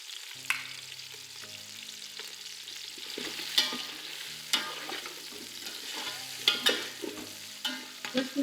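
Mutton frying with ginger in a pot, stirred with a utensil: repeated sharp scraping clinks over a low sizzle, about ten distinct strokes at irregular intervals, near and alone.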